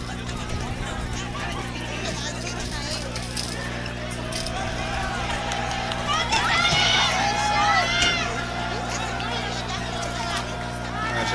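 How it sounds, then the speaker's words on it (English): Crowd at a boys high school soccer game, Davis vs. MacArthur, buzzing with excitement ahead of a late penalty kick; a steady wash of chatter and cheering holds throughout and swells briefly in the middle. "Crowd getting excited about this one"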